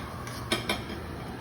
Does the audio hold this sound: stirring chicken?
yes